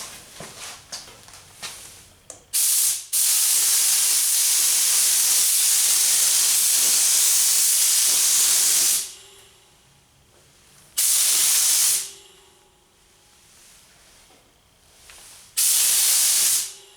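Spray gun laying a light tack coat of PPG Envirobase clear on a Ford Tuxedo Black test panel: loud, steady hissing bursts, one long pass followed by two shorter ones, close and with no voices.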